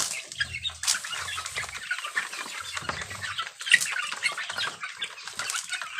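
Darag native chickens in a rural pen, with soft low clucks and scratchy rustling movement, plus bursts of wing flapping close by.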